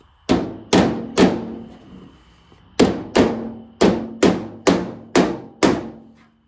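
Hammer tapping on a steel door of a 1987 Z28 Camaro during paint prep, ten sharp, ringing blows in two clusters with a short pause between, close and loud with no talk.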